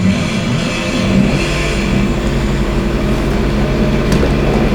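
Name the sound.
engine starting of Judd hill climb car, RaceRoom Racing Experience video game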